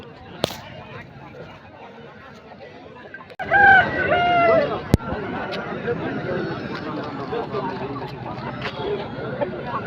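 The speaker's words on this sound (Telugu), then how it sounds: "వీడియోలో చూస్తుంది కాకిటేక పుంజు" A Kakiteka rooster, about ten to twelve months old and 3.5 kg, crows loudly once amid the chatter of the Peeleru livestock market, with a steady crowd murmur before and after.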